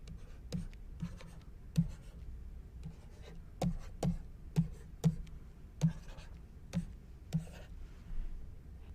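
Chalk or marker writing numbers on a board during a lecture: faint, irregular taps and short strokes spread across several seconds in a quiet room, with no one speaking.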